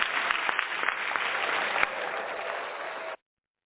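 Two rounds of applause played on a sports talk show, a steady band-limited wash of clapping with a few sharper claps, heard at moderate level and cut off abruptly near the end.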